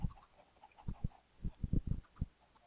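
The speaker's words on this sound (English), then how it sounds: "So here go the chickens and all the baby chickens too." Chickens and baby chickens in a video game cluck in short, irregular bursts, some close together, over a faint electronic background.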